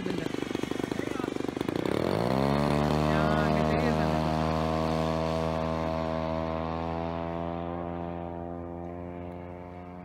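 An HSD Viper model jet passes with a loud, steady engine tone that sweeps down in pitch as it flies by and lands, then holds and slowly fades, with some background voices early on.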